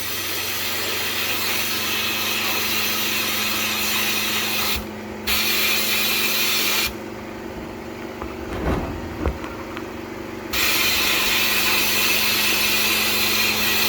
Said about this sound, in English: As you can hear, the compressor is very quiet.